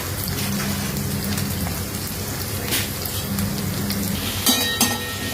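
Finely chopped cabbage frying in a pan for veg fried rice, joining capsicum already cooking, makes a loud, dense crackling sizzle with spattery bursts and stirring clatter toward the end.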